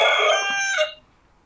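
A single crow from a cockerel horn blares for about a second, harmonic and horn-like, then cuts off into quiet.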